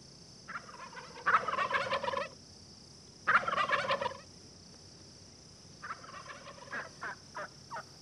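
Wild turkeys gobble in a hardwood forest setting, two loud rattling gobbles followed by a string of shorter clucking calls, fairly near with a steady high insect-like drone behind them.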